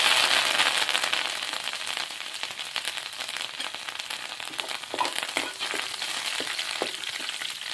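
Chopped garlic fries in hot oil until golden, a steady dense sizzle with crackling pops and occasional stirring scrapes, close and continuous with no voices.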